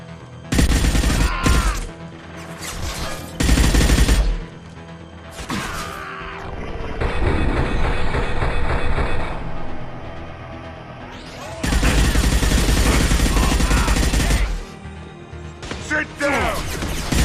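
Gunfire in Mass Effect 2 comes as loud, dense bursts of rapid shots separated by short pauses, with crashing impacts and mechanical clatter in between and game voices talking briefly.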